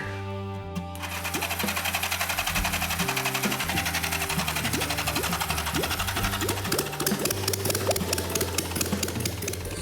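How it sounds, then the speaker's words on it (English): A bare engine with electronic ignition, no fuel tank and no exhaust, fires up almost instantly and runs with a loud, rapid mechanical clatter and fast rhythmic ticking that continues steadily to the end. "As soon as I put power to that red wire, like a light switch, it started right up."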